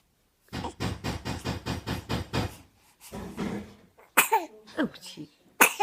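Baby girl sneezing: a run of quick rhythmic breathy bursts, then a sharp sneeze followed by small vocal sounds and a second burst, close and fairly loud.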